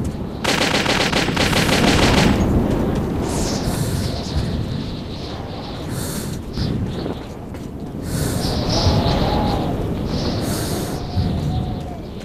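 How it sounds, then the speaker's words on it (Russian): Rapid automatic gunfire from the video game Metro 2033 rattles in a dense, loud burst, followed by scattered sharper shots and rumbling combat noise over the next several seconds. "Стреляй, Артём!"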